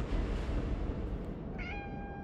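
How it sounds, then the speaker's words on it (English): A cat meows once in the video game Conarium, a short rising mew heard near the end over a steady, rumbling ambient background. "Oh my god, kitty cat."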